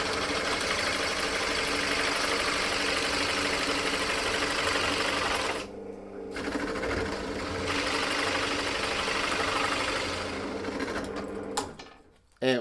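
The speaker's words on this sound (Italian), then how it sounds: "con il trapano a colonna classico adesso replichiamo il foro" A Parkside PTBMOD 710 A1 drill press bores with a 35 mm Forstner bit at 800 rpm: a steady, close motor whine with cutting chatter. It briefly drops out and then resumes before winding down.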